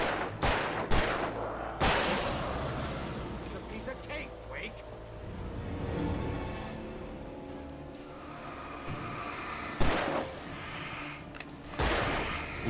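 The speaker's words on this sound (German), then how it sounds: "Komm, schieß drauf." Gunfire in the video game Alan Wake Remastered, with several sharp, loud shots scattered across a dense background of game noise and talk.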